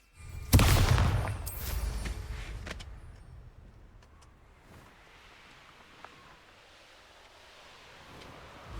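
A Bombarda blasting spell in Hogwarts Legacy sets off a loud, close explosive burst followed by rumbling debris and crackling that fades out over several seconds.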